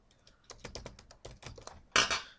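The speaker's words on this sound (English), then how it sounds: "If I can type." Quiet, quick keystrokes tap on a computer keyboard in a short irregular run, ending with a slightly louder clatter of keys.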